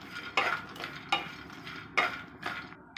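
Dry fruits being dry-roasted in a pan and stirred with a spatula, giving four or five close scraping, rattling strokes spaced about half a second apart over quiet background.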